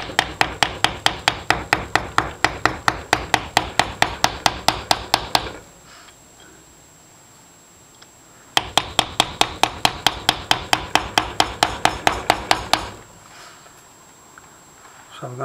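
A hammer striking a two-sheet molded spoon being shaped, fast even runs of sharp metallic taps, close and loud, in two long bursts with a quiet pause between them.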